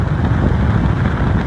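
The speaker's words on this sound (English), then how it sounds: "this is air conditioning full blast" A car's air conditioning runs at full blast, a steady, close, low-heavy whoosh of blowing air with no breaks.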